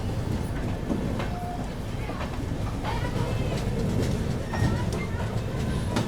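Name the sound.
Patliputra SF Express train passing through Katni Junction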